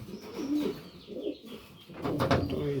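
Pigeons coo repeatedly in a breeding loft, their low throaty calls rising and falling close by, with a burst of louder cooing and rustling near the end.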